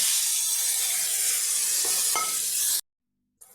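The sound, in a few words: soybean chunks frying in mustard oil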